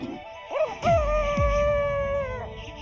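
A person imitates a Korean shaggy dog (Sapsali) howling, with a couple of short yips leading into a long, wavering howl that fades out.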